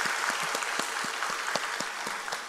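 Church congregation applauding during a Korean worship service, a steady, dense wash of clapping with individual claps standing out in a rhythmic, sustained burst, no voices over it.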